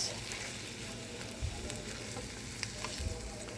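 Egg and onion sizzle softly in a pan as a quiet, even crackle, with a couple of light stirring knocks and no voices.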